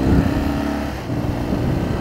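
A big adventure motorcycle, an Africa Twin or R1200GS, revs hard for a wheelie on a rural road. The engine roar is loud and close, with a short burst of broadband noise.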